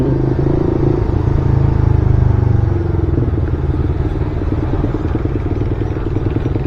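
A Gixxer motorcycle's aftermarket exhaust pipe idles and revs loudly up close. It gives a deep, rumbling, steady drone, swelling briefly early on and then settling into a rough, pulsing idle with some clattering.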